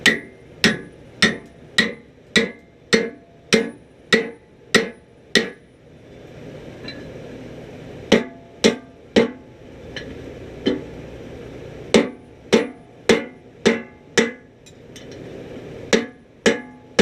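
A blacksmith hammers a punch through hot steel to form an axe eye, striking in quick, loud, ringing metallic bursts of about ten blows, with short pauses between groups.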